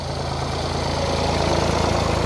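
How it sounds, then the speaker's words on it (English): A farm tractor engine idles steadily on a cornfield planting job, a loud low chugging drone with even rhythmic pulsing, close by and with no voices. "Now he's here on his tractor"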